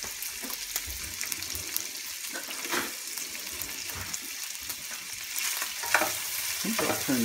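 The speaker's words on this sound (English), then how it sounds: "Gonna render this fat down a little bit, just even give it more flavor when you cook the cabbage." Half a head of chopped cabbage frying in rendered bacon fat, a steady close sizzle with occasional stirring scrapes and clatters throughout, no talking.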